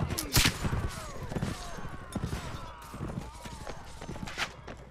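Cavalry horses galloping in Mount and Blade: With Fire and Sword, a rapid uneven clatter of hooves mixed with scattered gunshots and battle noise, with a voice talking over it throughout.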